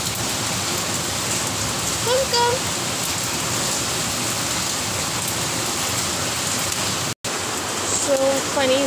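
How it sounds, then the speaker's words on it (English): Steady rain falls outdoors while indoor cats and dogs sit nearby, a dense, continuous hiss of drops on surfaces lasting throughout, with a brief dropout near the end and a few faint chirps over it. "It's raining too much."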